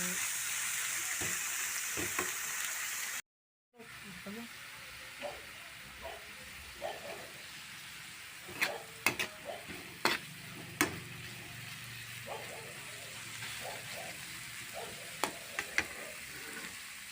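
Sliced bitter gourd sautés in a pan, a soft continuous sizzle broken by sharp clinks and scrapes of a utensil stirring, with one brief dropout partway through.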